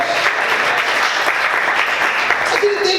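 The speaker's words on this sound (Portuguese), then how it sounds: "Você pode aplaudir o Senhor por isso" A church congregation applauds during a sermon, steady dense clapping filling the whole stretch at close range, with a voice briefly audible through it near the end.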